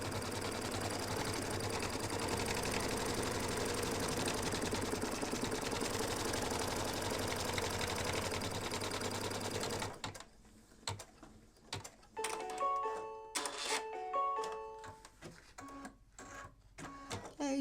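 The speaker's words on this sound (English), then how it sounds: "You don't have to let it stitch twice." Embroidery machine stitching a football mug rug, a dense steady mechanical whir and rapid needle chatter that suddenly stops, followed by sparse clicks, thumps and short tonal beeps nearby.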